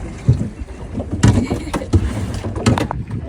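An offshore spearfishing boat runs under power with a low engine drone, choppy wind buffeting and repeated thumps of the hull slapping the waves.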